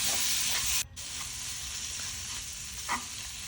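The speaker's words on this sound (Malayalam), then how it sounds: "തക്കാളി ആഡ് ചെയ്ത് കൊടുക്കുക. തക്കാളി എല്ലാം നല്ലോണം ഒന്ന് വഴറ്റിയെടുക്കുക." Tomatoes sautéing in masala in a pan for a pork roast give a steady close sizzle and frying hiss, with a brief dropout just before one second and a light stir scrape near three seconds; no one speaks.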